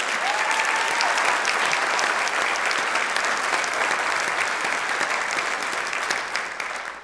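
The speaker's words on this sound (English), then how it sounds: "Let's give them another round of applause" A crowd applauds Teacher of the Year award nominees at a school board event. Dense, steady clapping fills the room at an even level throughout, then thins out at the very end.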